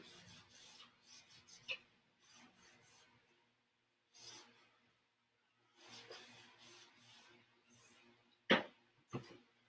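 Dark wax is rubbed into a wood furniture piece with a cloth or brush: soft, faint rasping strokes in short rhythmic bursts separated by pauses, close up, with a sharper knock near the end.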